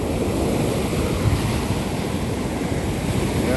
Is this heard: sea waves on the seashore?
yes